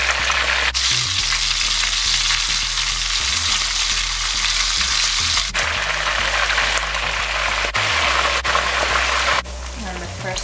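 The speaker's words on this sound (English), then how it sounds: "Start frying." Flour-dredged fish, such as sardines or smelt, fry in hot oil, giving a dense, continuous crackling sizzle close by that runs the full length with small shifts in intensity.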